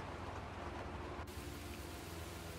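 Rain falling in the video game Heavy Rain, in mud outdoors: a dense, constant hiss of downpour fills the whole stretch with no voices, its character shifting abruptly partway through.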